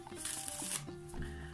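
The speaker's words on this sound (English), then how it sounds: "I'm going to shuffle it into the other pack" Two packs of playing cards being shuffled together, a quiet rapid riffle of flicking cards for under a second, then softer handling sounds, close and faint with no talk.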